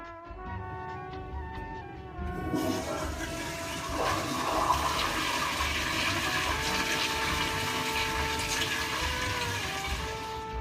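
A toilet that had run dry, refilled by pouring water into it, flushes with a loud rushing surge of water that keeps churning and gurgling for about eight seconds, close up, with no voices.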